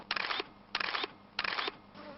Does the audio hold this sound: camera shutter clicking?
yes